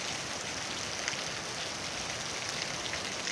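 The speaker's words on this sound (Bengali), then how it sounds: "প্রচুর বৃষ্টি হচ্ছে।" Heavy rain pours steadily onto a flat rooftop where water has pooled, a dense, even hiss with scattered drops and no voices.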